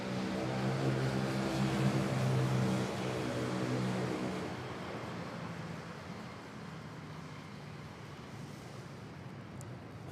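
A plane taking off at Manila Airport, with a loud engine roar carrying a droning propeller-like hum that fades into a steady rushing noise as it pulls away, and no talking.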